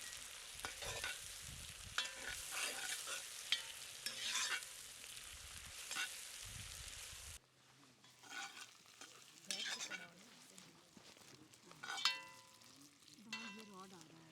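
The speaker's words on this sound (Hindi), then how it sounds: "अब प्याज को सुनहरा होने देते हैं।" Onions frying with whole broken red chilies in a Dutch oven during village cooking in Himachal: a soft, steady sizzle with scraping stirs from a ladle, growing quieter partway through.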